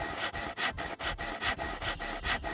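Wood being sawn by a character in the video game SCUM: a steady back-and-forth rasp of regular strokes, about two per second, close and continuous with no talking.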